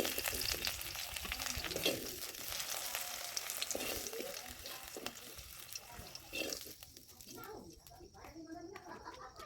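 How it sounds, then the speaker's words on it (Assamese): Diced potatoes fry in oil in a pan, a steady broadband sizzle filling the clip with occasional stirring scrapes, loud and close, easing toward the end as the pan quiets. "এতিয়া দেখিছে আলুখিনি অকণমান ফ্ৰাই হৈ অকণমান ব্ৰাউন কালাৰ এটা আহিছে"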